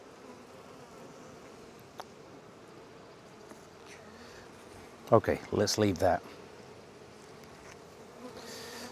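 A constant low hum of many bees buzzing close by in an open hive, with a person briefly talking partway through.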